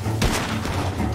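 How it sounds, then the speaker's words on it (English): Gunfire in the video game Red Dead Redemption 2: a dense burst of booming shots with a heavy low thump, loud and continuous through a short stretch, with a voice talking over it. "Gunshots are coming!"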